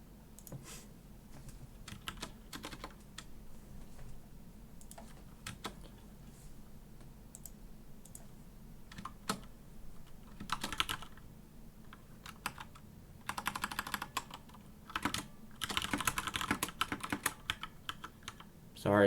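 Computer keyboard keys clack in irregular bursts of typing, mostly light and close with a few denser, louder flurries toward the end.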